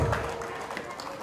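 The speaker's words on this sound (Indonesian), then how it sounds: "Tepuk tangan untuk Pak Oyon." A crowd applauds at an outdoor campaign event for Oyon Hamzah. The clapping is a soft, steady wash that sounds somewhat distant, with faint crowd murmur.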